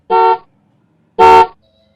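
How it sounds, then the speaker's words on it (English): Two loud car horn honks sound, each a brief blast, separated by about a second of silence. "They just can't resist their hands from honking."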